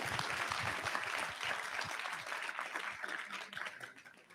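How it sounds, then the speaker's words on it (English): Audience applause at a student-focused summit event, dense steady clapping from a crowd that holds strong for a few seconds before slowly thinning and fading out. "Please big applause to Sebastian and Mariana."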